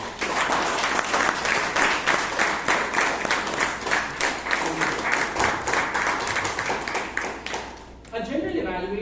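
A Toastmasters meeting audience in Bangalore claps for the general evaluator being introduced, a roomful of rhythmic clapping with distinct individual claps that continues for several seconds before a voice begins speaking.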